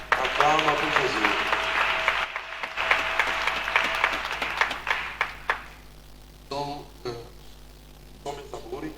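A church congregation bursts into applause during a worship service, loud dense clapping that thins out toward the end, with voices and shouts mixed in.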